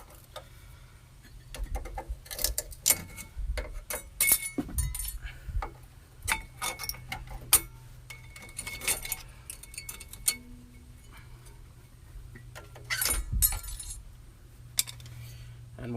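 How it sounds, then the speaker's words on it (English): Metal brake hardware coming off a 2003 Ford F-150 during a brake pad job, with a steady series of light metallic clinks, jingles and taps over a low background hum. "So let's get the brake hardware off."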